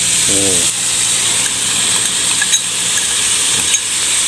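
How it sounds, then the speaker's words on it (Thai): Pounded garlic and pork sizzle steadily in a hot pan while being stirred, a loud continuous frying hiss with occasional scraping ticks; a brief voice sounds near the start. "กระเทียมที่เราโขกไว้นะครับ แล้วก็คนไปเรื่อยๆนะครับ"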